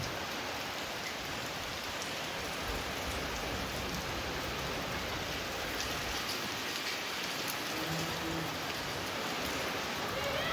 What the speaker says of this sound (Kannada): ಮಳೆ ನೋಡಿ ಹೆಂಗೆ ಬರ್ತಾ ಇದೆ.